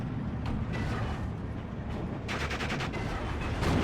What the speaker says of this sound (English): Autocannons firing. Getting the side shots though. And looks like it's going to get a shot in. Oh, AT gun fires.